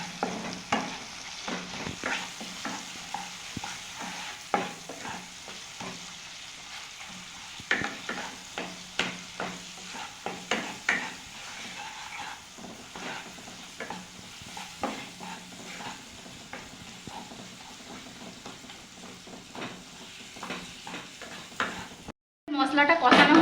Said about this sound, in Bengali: এবার একটু কষে নেবো এটাকে